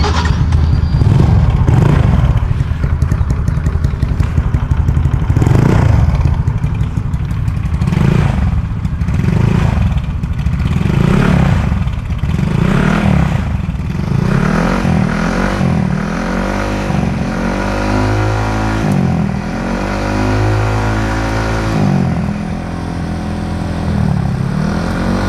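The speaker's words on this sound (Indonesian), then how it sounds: "ada dengar kan bagaimana suara knalpot Mio J ini dengan knalpot customnya" A Yamaha Mio J scooter with a custom exhaust revs over and over, close and loud, its deep engine note rising and falling in repeated bursts for the whole stretch with no talking.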